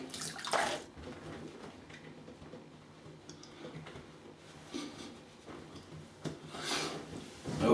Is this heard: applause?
no